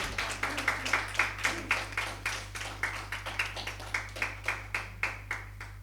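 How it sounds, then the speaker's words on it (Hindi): Hands clap in a steady, even rhythm for a novel launch ceremony honouring Dr. Suraj Singh Negi, fairly quiet and somewhat distant over a constant low electrical hum. "एक बार तालियां हो जाएं नेगी साहब के लिए"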